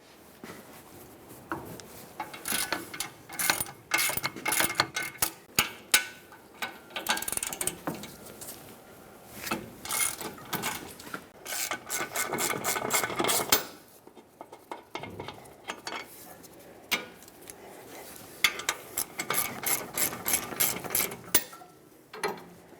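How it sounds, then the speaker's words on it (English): Mechanical ratcheting clicks and bursts of metal-on-metal clatter from a long ratchet or breaker bar loosening the rear brake caliper bracket bolts on a 2014-2018 GMC Sierra 1500, arriving in repeated close, moderately loud runs with brief pauses and no talk. "So with a long ratchet or breaker bar, break these free."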